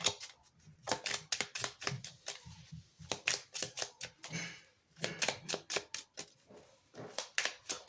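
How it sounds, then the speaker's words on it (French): Tarot cards shuffled by hand in quick bursts of sharp riffling flicks, a pause in the middle, then more rapid snapping flutters, close and fairly soft with no talking. "je fais sauter les cartes, donc parfois c'est plus ou moins long"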